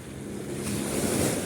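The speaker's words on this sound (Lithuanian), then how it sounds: "Viduržemio jūra" Mediterranean Sea waves wash onto the shore at Cannes with a continuous broadband roar that swells slightly louder toward the end, mixed with wind noise.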